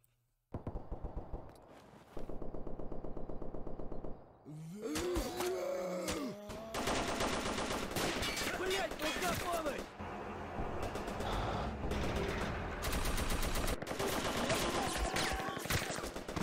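Gunfire in a STALKER fan film, with scattered shots and then dense, rapid bursts of automatic fire mixed with clatter and crashes, loud and continuous, while voices talk over it.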